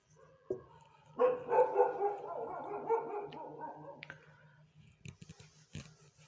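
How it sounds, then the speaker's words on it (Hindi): Several dogs bark and yip in a burst of overlapping, fairly distant barks for a few seconds, then quieter scattered yelps and whimpers against a low steady hum. "ये देखो कुत्ते भौंकने भी लग गए।"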